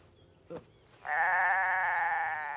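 A cartoon goat gives one long, loud, wavering bleat after a brief soft sound, with no talk, heard in a Heidi animation.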